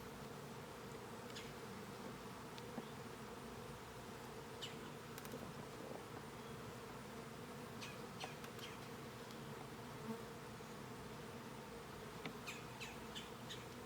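Honeybees swarm around an open hive fitted with an in-hive feeder, a continuous low droning hum with occasional louder individual bees passing near, quiet and steady with no talking.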